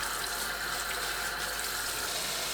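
Pumpkin leaves are washed under running tap water, a steady close rush of water that continues unbroken for the whole stretch with no voices.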